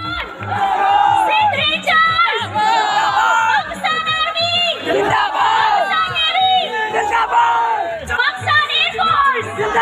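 A crowd at a Sindh Culture Day celebration in a maritime museum cheers and shouts loudly and continuously over a pulsing rhythmic beat, with excited voices whooping near and far.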